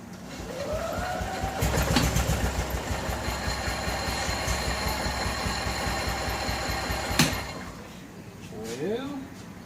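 A 1988 Club Car golf cart gasoline engine fitted with a new carburetor and fuel pump cranks and catches, then runs at a steady, rough idle up close, with a brief clatter near the end.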